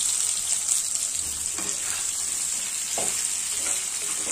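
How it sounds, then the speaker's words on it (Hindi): Potatoes with cumin (jeera aloo) frying in a kadai, giving a steady, fairly soft sizzle with occasional scraping stirs of a spatula against the pan. "अब इसे लगातार चलाते हुए 3 से 4 मिनट भूनना है"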